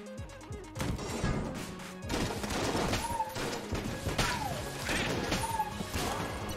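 Shotgun blasts from the Vortex shotgun in Enter The Gungeon boom repeatedly in heavy bursts, layered with crashing impacts and whooshes in a loud, dense action soundscape.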